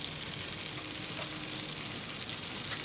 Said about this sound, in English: That's a generous kilo of onions to fry in the bacon fat.